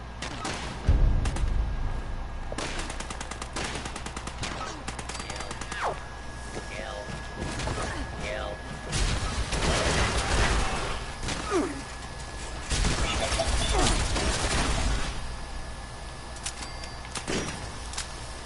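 Gunfire from rifles and an AR in Fallout 76, including a rifleman slug buster and a plasma flamer, with repeated sharp shots and bursts throughout alongside game mechanisms and ambience, at a steady moderate level.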